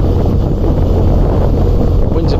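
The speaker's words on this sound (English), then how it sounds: "This is just too windy." Strong wind buffets the microphone beside a narrowboat on a canal near a sewage works and river, a loud continuous roar with no pauses.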